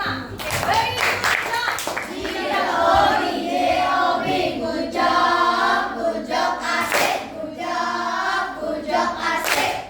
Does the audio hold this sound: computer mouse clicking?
no